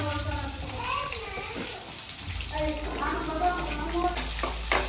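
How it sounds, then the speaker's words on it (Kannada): Onions, mustard seeds and curry leaves frying in a pan for a drumstick stir-fry, a steady low sizzle with occasional stirring scrapes and clinks throughout. "ನೋಡಿ ಫ್ರೈ ಮಾಡ್ತಾ ಇದ್ದೀನಿ ಸೊ ಇದು ಬ್ರೌನಿಶ್ ಆಗೋ ತನಕ ಚೆನ್ನಾಗಿ ಫ್ರೈ ಮಾಡ್ಕೊಬೇಕು"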